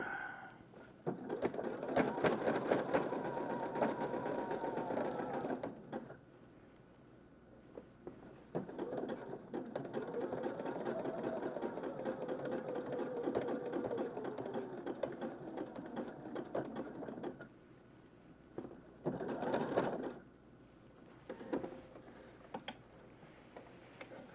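Sewing machine stitching repairs on US Special Forces prototype pants at increased stitch width, running in a steady mechanical whir over several long bursts with short pauses between, close and fairly quiet, no talk.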